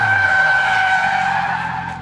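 Russian car skidding and drifting on the Sochi Formula 1 circuit: a loud, sustained tyre squeal with steady high-pitched tones, nearby and continuous for about two seconds, fading slightly at the end.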